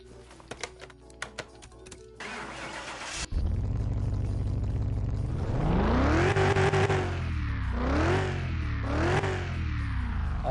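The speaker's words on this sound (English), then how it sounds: "That sounds like a gas engine." Engine of a restored 1971 Ford Mustang Mach 1 in Mechanic Simulator 2021 starts after a patter of keyboard typing, then settles into a steady gas-engine drone with several loud rising revs that sweep up and drop back, sounding alone.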